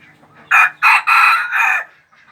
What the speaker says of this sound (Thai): ฟังเสียงขันเพาะๆของเขาครับ บรรยากาศยามเช้านะฮะที่บ้านทุ่ง